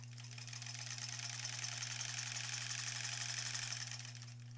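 A sewing machine stitches a piece for the back of a granny squares quilt, producing a fast, regular mechanical whir and rattle that runs for about four seconds before slowing to a stop.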